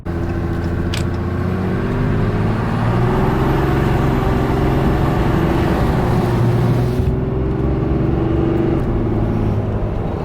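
A Cummins diesel truck on 37-inch tires cruises along with a steady, loud engine drone and road roar that holds throughout, the pitch rising slightly as it pulls, with no talking.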